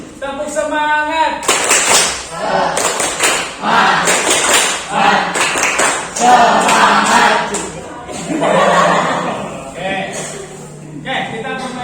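Students in a classroom do the 'tepuk semangat' chant: loud, repeated patterned claps in quick bursts ring out with group voices chanting along, closing with a teacher speaking.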